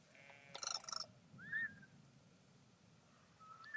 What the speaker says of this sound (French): On entend des moutons.